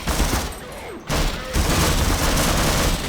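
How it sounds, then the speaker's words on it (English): Sustained assault rifle fire in the Half-Life video game, loud continuous bursts of rapid shots that dip briefly and then resume in a dense, unbroken fusillade. "Oh, this is my assault rifle."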